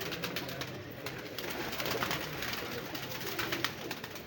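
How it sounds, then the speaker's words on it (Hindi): A pigeon coos softly amid a busy outdoor din of many birds, a low murmuring call repeated under steady ambient noise. "इधर एक कबूतर बैठा हुआ है, नीली स्याही उसके कबूतर के लगी हुई है।"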